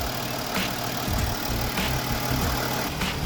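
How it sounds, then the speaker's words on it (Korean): A 2014 Mercedes-Benz G350 BlueTec V6 diesel idles steadily with its engine bay open, giving a continuous low rumble with a faint knocking texture and no talk. "V형 6기통 엔진입니다."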